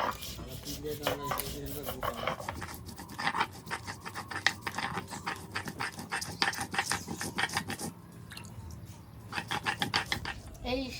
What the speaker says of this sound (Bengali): এখন আদা লঙ্কাটা বেটে নিব, আদা আর শুকনো লঙ্কা